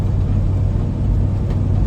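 A pickup truck with a small-block Chevy engine and hydraulic flat-tappet cam runs with a steady, even low rumble and no other sounds.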